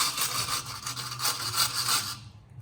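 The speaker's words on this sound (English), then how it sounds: "I'll clean this bolt up without getting shit in your eye." Rusty exhaust bolt on a BMW M140i being scrubbed clean, a loud continuous abrasive rasping with rapid back-and-forth strokes, close up and alone, stopping abruptly at the end.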